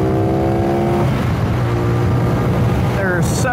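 A CFMOTO 450NK motorcycle pulls onto a highway, its engine note rising through the gears with loud wind rush, then a quick shift and renewed climb near the end.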